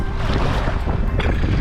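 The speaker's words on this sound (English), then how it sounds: "if you can hear the wind, it's windy too." Strong wind at a summer beach pounds the microphone in a loud, constant low rumble, with surf and open-water noise blended underneath and a brief gust surge near the end.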